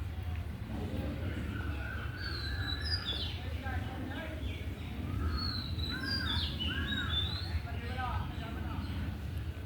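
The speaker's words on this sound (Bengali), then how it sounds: "তোমরা পাখির ডাকও শুনতে পাচ্ছ নিশ্চয়ই" Small birds call in a garden: scattered bright chirps and short whistled notes, some near and some farther off, over low traffic rumble and faint talk.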